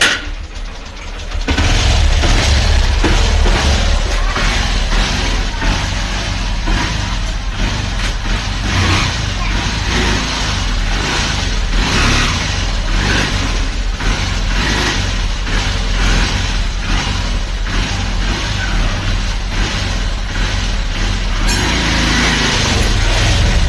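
Honda Livo motorcycle engine, freshly fitted with new clutch plates and clutch hub, starts and revs loud and close, holding a steady running roar with rising throttle pulls throughout.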